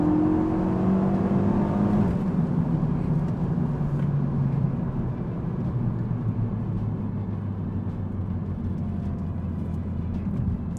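Renault Megane RS 265 sports car under way, its engine drone steady and close with a falling pitch early on, then a sustained rumbling cruise with no talk.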